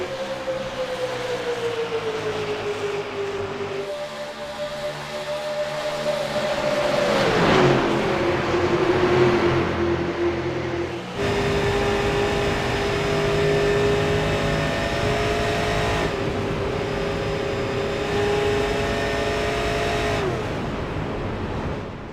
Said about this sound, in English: Give you guys that the awesome sounds of these race cars.